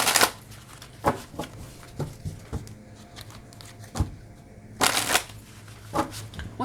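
Tarot cards being shuffled in quick riffling bursts, several separate rustling flurries spread across a quiet indoor room with faint background hum and no talk.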